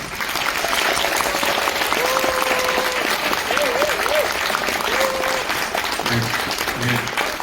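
A crowd claps steadily to welcome a world music band to the stage at an evening concert, a loud continuous patter throughout, with brief tonal sounds and a voice faintly under it.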